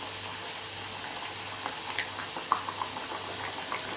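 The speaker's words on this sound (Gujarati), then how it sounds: "હવે આપણે બીજી પૂરી પણ એડ કરી અને તળી લેવાની." Puri frying in hot oil, a faint, steady bubbling sizzle with small scattered pops, heard alone and fairly quiet.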